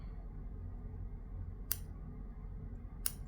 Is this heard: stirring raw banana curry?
no